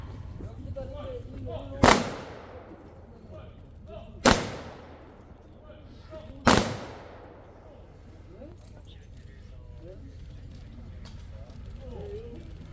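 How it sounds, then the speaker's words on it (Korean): A rifle volley salute rings out at a memorial ceremony at Seoul National Cemetery, with three sharp, loud gunfire cracks at even intervals, each followed by a decaying echo over quiet outdoor ambience. "의장대 조총 발사!"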